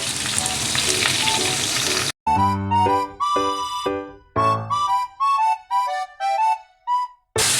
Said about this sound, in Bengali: তেলে আমি আলু বেগুনটা দিয়ে দিলাম।